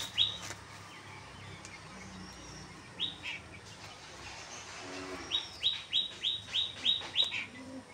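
Pigeons in a loft give sharp, chirpy calls: a few isolated notes early, then a quick run of about eight evenly spaced calls near the end, over a low, steady background hum.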